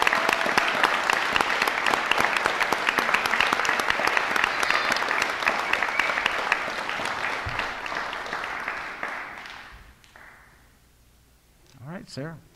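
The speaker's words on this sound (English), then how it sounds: "So a round of applause for these seniors." A large crowd claps loudly and continuously, the applause gradually thinning and fading out, followed by a few faint voices near the end.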